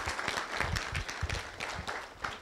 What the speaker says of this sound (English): everyone should give a round of applause to the parents of both these kids